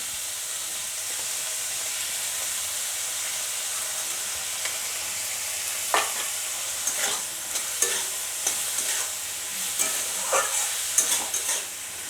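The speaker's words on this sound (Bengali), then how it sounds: "আমি লবণটা দিয়ে খানিকক্ষণ ভেজে নেব" Jackfruit pieces frying in oil with salt give a steady close sizzle, with scraping stirring clicks breaking through in the second half and no voices.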